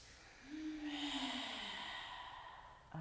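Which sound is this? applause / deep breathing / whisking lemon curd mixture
deep breathing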